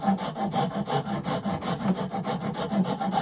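A wood rasp files back and forth across a piece of wood, roughly a dozen quick, even rasping strokes in steady rhythm, close and fairly loud with no voices.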